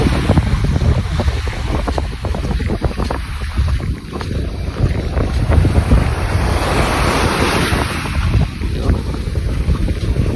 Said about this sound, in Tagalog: Maririnig niyo yung tunog ng alon sa kahangin.